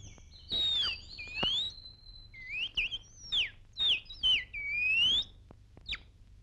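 A person whistles an imitation of a bird call, a series of clear, pitched chirps, rising and falling slides and trills in short bursts separated by pauses, close and alone against a quiet background.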